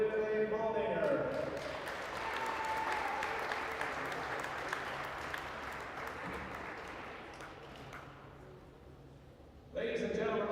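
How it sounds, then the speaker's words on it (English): Crowd applause fills a high school gym at a Wahoo vs Plattsmouth girls basketball game, steady and moderately distant, with a public-address announcer speaking just before it starts and again as it ends. "A nice round of applause."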